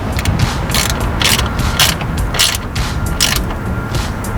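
A hand ratchet tightening a ground bolt during fender light installation on a 2018+ Jeep Wrangler JL: loud, close rapid clicking in uneven bursts of quick pawl ticks, steady throughout with no talk.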